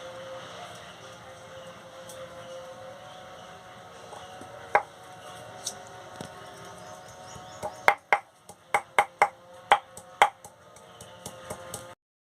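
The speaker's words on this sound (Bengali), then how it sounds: "এবার আমি আদাটা বেটে নেব।" Ginger being ground into a paste by hand on a stone, heard as a steady rough grinding bed broken by a run of sharp knocks and taps, close and fairly loud, with no talking.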